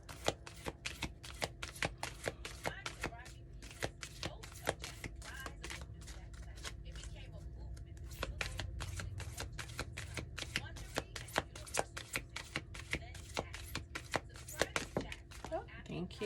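Oracle cards are shuffled by hand in a steady run of quick papery riffles and flicks, close and fairly quiet, continuing for a long stretch.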